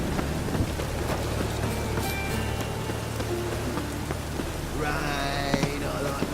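Rain patters steadily in a Witcher 3 game scene, a dense hiss of drops on surfaces with scattered tonal game sounds and a brief chirping burst near the end, no talk.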